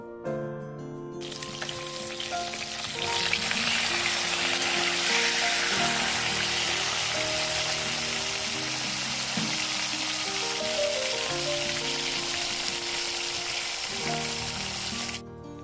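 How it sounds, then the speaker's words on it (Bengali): Small fish, puti and other freshwater fish, frying in oil in a pan, a loud, steady, dense sizzle that swells after the first seconds and holds throughout, with low clattering and kitchen sounds beneath. "এগুলো এখন ভেজে নিচ্ছি তারপর তরকারিগুলো করে নেব"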